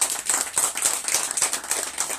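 An audience at a church outreach gathering in Bali, Indonesia, clapping hands: a close, lively round of sharp claps from a small group, uneven in rhythm, over a couple of seconds.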